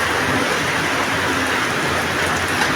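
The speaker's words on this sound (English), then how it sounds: "It has been raining." Heavy rain pours down during the rainy season, a steady dense hiss that fills the whole stretch with no pauses and no voices.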